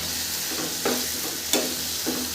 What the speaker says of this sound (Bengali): নেড়ে দেবো মশলাটা অবশ্যই আপনাকে ভালো করে বসাতে হবে